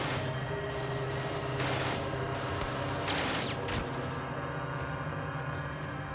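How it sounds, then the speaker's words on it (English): Wartime gunfire from a large concrete bunker overlooking a beach, heard as a dense continuous roar of shots and explosions that fills the whole stretch, loud and unbroken with no speech. "18-year-old German conscript Franz Gockel has been shooting at American troops continuously since the Allied invasion began."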